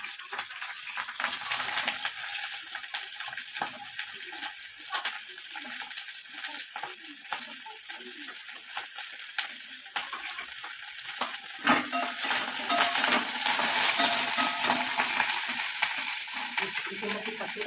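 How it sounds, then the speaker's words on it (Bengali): Cauliflower pieces go into hot oil in a pan and fry with a steady hissing sizzle, stirred with scraping sounds. The sizzle swells louder partway through and keeps going as a continuous frying roar. "তেল গরম হয়ে গেছে, এবার দেখতে পাচ্ছেন ফুলকপি দিয়ে দিচ্ছি।"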